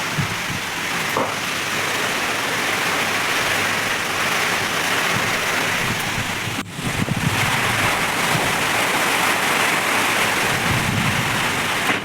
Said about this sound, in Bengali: আর ঘরে থেকে বাইরে দেখো বৃষ্টি ইতিমধ্যে এসে পড়ছে।